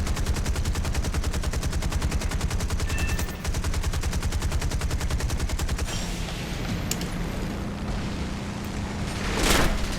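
Rapid, continuous machine gun fire from a Hellcat fighter plane in War Thunder, a loud unbroken mechanical rattle lasting several seconds, then thinning into a rougher burst with engine noise and an explosion-like hiss at the end.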